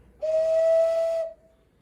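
Clay whistle fitted with a reed and mouthpiece gives one steady, clear whistle tone held for about a second at moderate loudness, then cuts off with nothing else heard.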